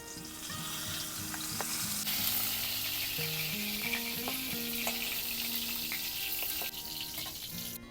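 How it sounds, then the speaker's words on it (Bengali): Steady oil sizzle and crackle of pointed gourd frying in a pan, continuous throughout, with a few light utensil clinks and scrapes and background music tones. "বাকি পটলগুলো এইভাবে ভেজে নেব"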